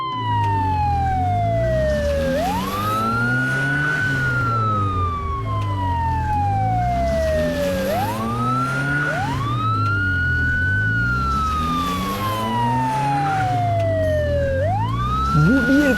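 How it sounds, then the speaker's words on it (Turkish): A toy police car siren wails in repeating rising and falling sweeps, loud and close, with engine rumble underneath throughout. "polis arabası."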